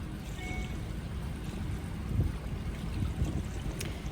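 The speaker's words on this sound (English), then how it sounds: "So here is the river flow." River water flows steadily with a soft, continuous rushing murmur, fairly quiet and even throughout.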